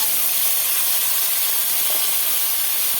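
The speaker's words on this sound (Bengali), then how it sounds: "যে তেল আছে এই তেলের মধ্যে আমি এই পটলগুলো ঢেলে দেব।" Pointed gourd (potol) pieces frying in hot oil, a loud, steady, dense sizzling hiss with no pauses.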